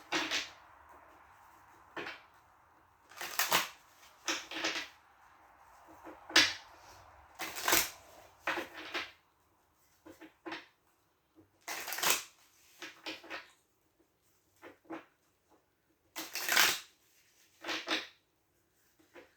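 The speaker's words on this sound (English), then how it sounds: "One more shuffle. I'll cut them 3 times" Tarot cards are shuffled in repeated soft riffling bursts, with pauses between them, close by and fairly quiet.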